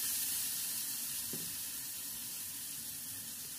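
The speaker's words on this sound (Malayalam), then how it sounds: "ഒരു 2 തക്കാളി ആഡ് ചെയ്ത് കൊടുക്കാം നന്നായിട്ടൊന്ന് വഴറ്റുക" Tomatoes and spices sauté in a pan for chicken curry, giving a steady hissing sizzle with one brief knock of a utensil early on.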